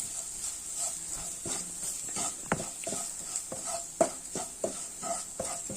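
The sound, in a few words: stirring and roasting pepper and Kashmiri chilli masala in pan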